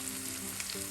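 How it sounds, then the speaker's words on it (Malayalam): Bitter gourd frying in hot oil in a pan, a dense, continuous crackling sizzle that stays close and even throughout, with no voices. "പാവയ്ക്ക നമുക്ക് 2 തവണയായി ഫ്രൈ ചെയ്തെടുക്കാം."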